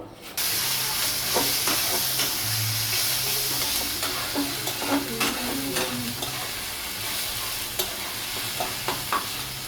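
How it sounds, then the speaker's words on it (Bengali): Onion frying with ginger-garlic paste while duck curry is being cooked: a loud, constant sizzle and steamy hiss carries a string of spoon scrapes and light clinks as the mixture is stirred. "এখন ভালো করে নাড়াচাড়া করে আদা রসুন বাটাটা পেঁয়াজের সাথে মিশিয়ে নেব"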